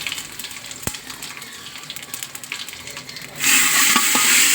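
Dried red chilies, bay leaves and panch phoron are dropped into hot mustard oil. After a quiet stretch with faint clinks, a loud bright sizzle bursts out and holds steady near the end.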